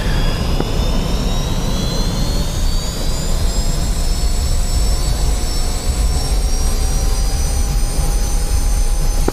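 A jet aircraft taxis in the DCS World flight simulator, its engine a loud, steady whine with a continuous roar underneath that holds without a break.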